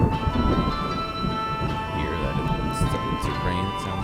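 In Dwarf Fortress, rain falls on the surface as a steady, dense hiss with low rumbling underneath, continuous and fairly loud throughout, with a few faint higher tones drifting above.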